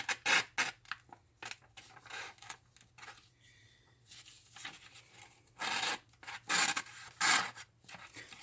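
Pocketknife blade slicing paper: short dry rasping cuts in irregular bursts, close and fairly quiet, with a few longer scraping strokes near the end.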